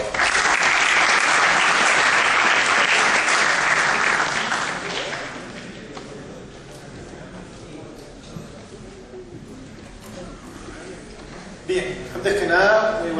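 Audience applause welcoming an engineer to the stage for a home-automation talk, loud and dense for about five seconds before fading, with a voice speaking afterward and brief clapping returning near the end.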